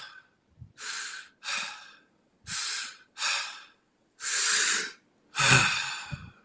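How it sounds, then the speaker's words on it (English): Deep breathing exercise demonstrated aloud, six long audible breaths in and out with sighing exhales, close and alone with quiet pauses between. "how these breaths are going to sound, you can do it nose or mouth, however you want."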